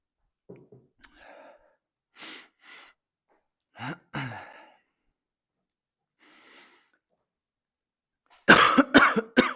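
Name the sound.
coughing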